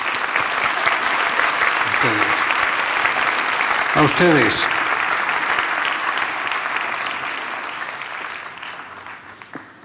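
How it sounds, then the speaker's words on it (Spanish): Audience in an auditorium applauds after an academic conference talk, a sustained wash of clapping with a brief voice and a few shouts mixed in, slowly fading toward the end. "pues un aplauso de agradecimiento"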